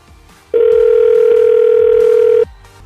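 A single steady telephone tone sounds for about two seconds while a number is being called, loud and unbroken, with faint background noise before and after it.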